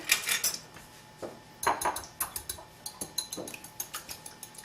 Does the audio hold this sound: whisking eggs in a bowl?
yes